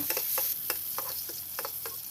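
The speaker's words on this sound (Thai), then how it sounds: "ตั้งกระทะให้ร้อนใส่น้ำมันลงไป จากนั้นก็ใส่กระเทียมกับพริก ที่เราทุบไว้นะคะ เจียวให้เหลือง" Crushed garlic and chili fry in hot oil in a pan, a steady close sizzle broken by light repeated scrapes and taps of stirring, with no voices.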